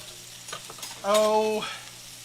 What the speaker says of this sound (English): So now there's the pork chops, and I'll just let them fry